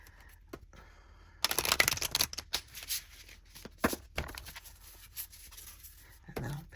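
A deck of cards is shuffled by hand, giving several bursts of riffling, papery flutter separated by short pauses and softer taps, close and quiet, with no talking.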